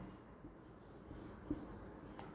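Faint pen or chalk writing during a Hindi-language class 10 physics lesson on the electric motor: soft, low scratching strokes run continuously in a quiet room, with no speech.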